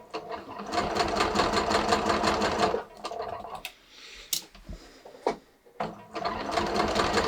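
A sewing machine stitches a curved bust dart in fabric, running in a fast steady whirr for about three seconds, then stopping and starting in shorter bursts with handling noises between runs.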